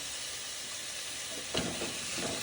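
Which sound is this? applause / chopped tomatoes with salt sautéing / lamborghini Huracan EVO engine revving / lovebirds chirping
chopped tomatoes with salt sautéing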